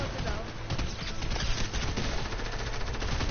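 Video game gunfire from Fortnite Marauders shooting at players, a dense continuous clatter of shots mixed with game noise and talk.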